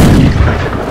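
A single loud, booming cannon shot in the game Holdfast: Nations at War, with a deep low rumble that decays over about a second.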